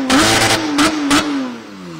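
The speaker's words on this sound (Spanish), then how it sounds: "Dios mío, ¿has visto cómo suena eso? Porsche 911 GT3" Porsche 911 GT3 RS engine at a race event revving in sharp repeated blips, three or four crisp bursts over a steady mid-pitched drone, loud and close.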